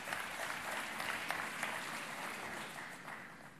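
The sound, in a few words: audience applauding during a speech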